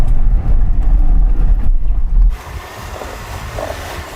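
An off-road vehicle claws for grip on rough ground, its engine roaring and labouring loudly with heavy wind buffeting, then dropping abruptly to a quieter rumble.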